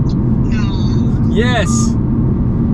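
An Audi R8 on the road produces a steady, loud low rumble of engine and road noise inside the cabin, continuous throughout, with people talking over it.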